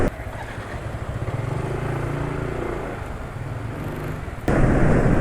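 A motorcycle engine freshly filled with Union 76 20W50 oil runs with a pulsing, fairly smooth rumble, then jumps abruptly to a louder, harsher roar near the end.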